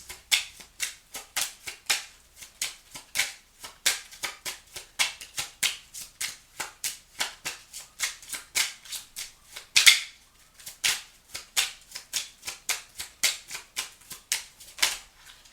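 Tarot cards being shuffled and drawn, a rapid run of crisp, close card riffles and flicks in a steady rhythm, with one louder snap near the middle and no talking.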